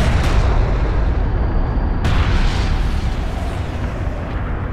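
Sustained enemy fire rakes a bomber in Homeworld: Deserts of Kharak, a dense, continuous rumbling barrage of booms and bursts that holds a steady loudness throughout.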